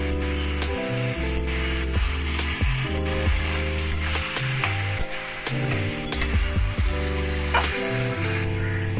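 Fish curry with ground white sesame paste sizzling in a pan while being stirred, a continuous frying crackle with scraping stirs, heard over steady background music.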